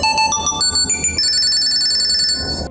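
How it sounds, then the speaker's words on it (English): An MSI Summit E14 laptop rings after being located through the Tile app, playing a loud, bright electronic melody of stepped tones that climbs and then holds higher notes before cutting off. "Click Find and your laptop will immediately start ringing"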